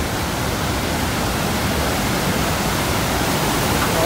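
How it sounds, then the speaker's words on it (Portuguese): Iguazu Falls on the Argentine side roar as a steady, dense wall of broadband rushing water, loud and unbroken from start to finish, with no voices over it. "Ah, queda d'água."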